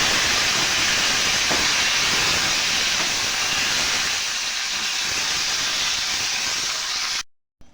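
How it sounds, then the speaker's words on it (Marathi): A mixer grinder grinds masala for a spicy green brinjal dish, producing a loud, continuous rushing whir that runs for about seven seconds before stopping abruptly. "मी हे मिक्सरला बारीक करून घेते"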